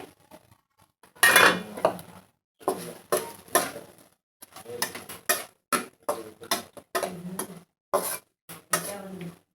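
Capsicum fry is stirred with peanut chutney powder in a pan, with a series of irregular metal spoon scrapes and clinks against the cookware, close and crisp with short gaps between strokes.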